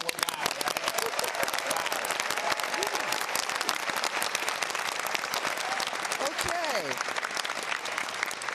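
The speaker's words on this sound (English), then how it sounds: "let's get a round of applause for Pomona College and where we are in this beautiful venue" An audience at a governor's debate at Pomona College applauds, a loud, sustained wash of dense clapping from a large crowd, with cheers and a voice heard over it.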